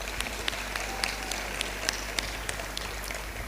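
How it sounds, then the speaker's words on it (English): An audience applauds a government minister at a ceremony, with sparse, distinct claps spaced over a steady hiss, moderately faint and distant, and no talking. "Another round of applause for the Honorable Minister."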